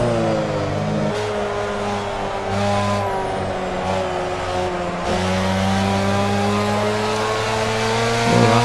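A tuned Mazda RX7 race car's engine held at full throttle in Assetto Corsa, a loud steady rotary drone with sharp gear-shift dips, close and continuous with no talking.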